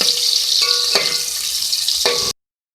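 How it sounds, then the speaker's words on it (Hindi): Onion sizzles in a pan with beef and potatoes, a steady close hiss with a few stirring clatters, then cuts off abruptly. "अब एक मीडियम साइज़ की मेरे पास प्याज है, वो मैं इसमें ऐड कर रही हूँ। इसको भी फ्राई करेंगे इसके साथ।"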